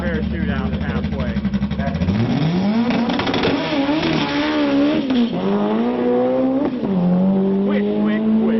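A Volkswagen Beetle drag racer makes a run at a Bug-O-Rama event, its engine note climbing steadily as it pulls away, loud and sustained, with crowd and track noise around it.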